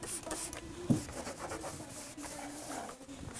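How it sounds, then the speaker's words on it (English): Sanding on a fuel tank part for a Ford F150, a steady close scratchy rubbing with small rhythmic strokes and one brief bump, no talk over it. "So I think I've got it sanded to a point where I'm happy with it."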